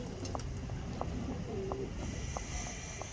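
A breeding pigeon hen coos softly in a small loft, low, repeated murmurs set among faint clicks and background hiss, with no voices.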